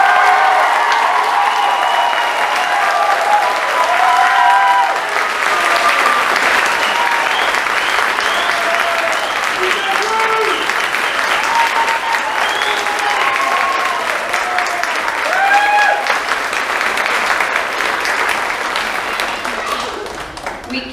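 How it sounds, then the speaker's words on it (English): Audience applause for the graduating class of 2025 at an HSED graduation ceremony: a steady, dense wash of clapping sustained for about twenty seconds, with a few crowd voices and cheers rising within it before it tapers at the end. "please join me in one more round of applause for our class of 2025"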